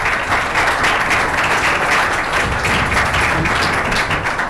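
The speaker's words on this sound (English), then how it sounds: "you guys know you're clapping for yourselves" A lunch keynote audience claps steadily for several seconds in a dense, loud, even wash of applause. Nobody speaks over it.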